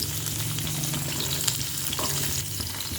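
Garlic fries in a pan for country chicken sambar, giving a loud, steady, close sizzle with faint stirring scrapes beneath it throughout.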